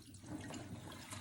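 Dirty wash water draining out of an unbranded portable manual washing machine, a faint continuous gurgling trickle with no talk.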